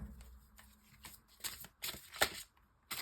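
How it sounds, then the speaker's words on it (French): Tarot cards from an archangel deck being shuffled and drawn, with soft riffling and several sharper card snaps and slaps close by, the last few louder and spaced apart, no talking. "je vais prendre une carte du tarot des archanges pour vous clôturer ce tirage"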